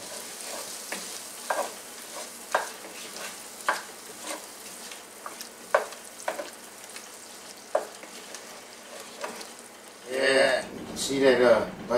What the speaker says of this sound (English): See that butter melting up in there?